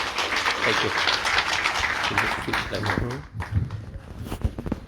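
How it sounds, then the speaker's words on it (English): Applause greets an alumnus at a Beacon Hill High event, scattered clapping under a nearby voice and shuffling, fading out around the third second as talk takes over. "So can we please give Mr. Faiz Jacob a round of applause?"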